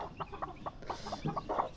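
Broody country hen at a hatching nest clucking in a rapid run of short, soft, low clucks, close and fairly quiet, with no voices.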